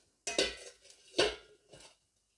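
Lids set onto cooking pots and dishes in a home kitchen, three quick metallic clanks of ringing pot lids placed down one after another, close and fairly soft.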